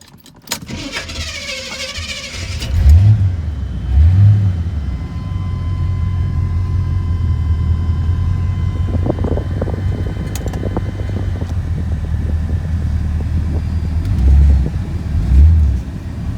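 A nearby 1981 Chevrolet Corvette engine idles with a low, steady rumble, broken by four short revs: two early on and two near the end.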